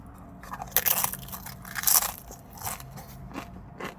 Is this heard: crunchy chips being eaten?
yes